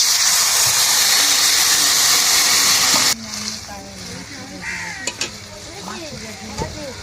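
A sour broth of tamarind and mango with salt and water bubbles in a pot, first as a loud steady hiss, then it drops to a quieter simmer under talking and a few sharp clinks.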